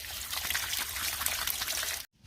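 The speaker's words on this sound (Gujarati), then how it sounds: "આવી રીતે આપણે બટાટા બધા ધોઈ નાખવાના છે વ્યવસ્થિત, જેમ સારા થઈ જાય એ પ્રમાણે।" Tap water runs and trickles steadily while potatoes are washed by hand, a close, even splashing flow that cuts off abruptly near the end.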